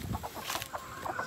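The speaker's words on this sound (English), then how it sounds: "Brought three more chickens over today." Several chickens cluck in short, soft bursts inside a breeding pen, with scattered calls spread across a quiet, steady background and no talking.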